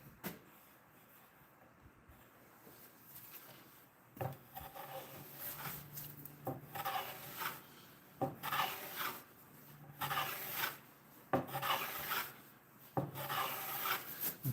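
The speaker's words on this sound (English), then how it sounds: "Planing the edge of this so I don't have too much tear out on the edge of here" A hand plane works along the edge of a thick wooden beam, about 18 inches wide and 3 inches thick, in close, repeated rasping strokes that swell and fade, with no talking.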